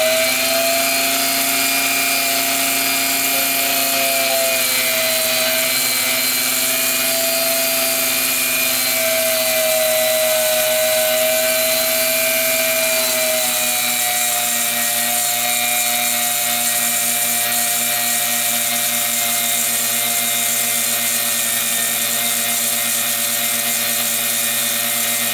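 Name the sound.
sanding pinewood derby car axle with abrasive strip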